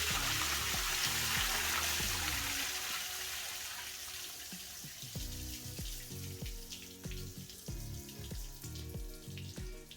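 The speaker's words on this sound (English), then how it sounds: "we can open the main drain, and it will drain right into the sewer drain" Waste holding tank of a Prevost H3 bus emptying into a sewer drain in a wash bay, a loud gushing rush of water that tapers into uneven trickling and splashing.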